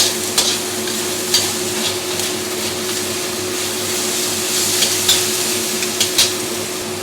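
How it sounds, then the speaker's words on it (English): Minced garlic, onion and ginger paste sizzle steadily in hot oil in a pan for a chicken rendang, with a constant frying hiss broken by occasional stirring scrapes and clicks. "Put in all the minced garlic, onion, and ginger paste. We saute it until it's fragrant."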